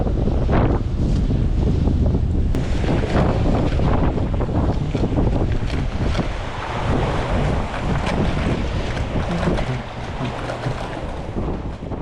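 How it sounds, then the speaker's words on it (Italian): Strong sea wind during a storm surge roars and buffets the microphone continuously, loud and gusting throughout with no voices. "ormai il vento spinge davvero forte"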